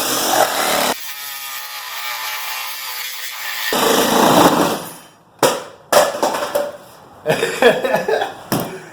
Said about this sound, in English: This guy is the Sawzall. He's the MVP for the bigger job.